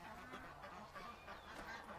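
Ducks quacking in a pen at egg-collection time, a steady clamor of overlapping calls at moderate distance with continuous farmyard background noise.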